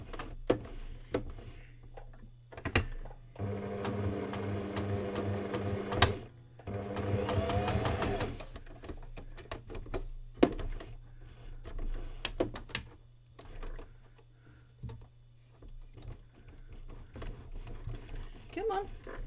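A home sewing machine stitches a seam in two sustained whirring bursts of rapid needle chatter, separated by short pauses, with scattered clicks and handling noise around them and a steady low hum underneath.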